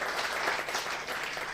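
Church congregation applauding during a sermon, a brief burst of dense, moderately distant clapping from many people.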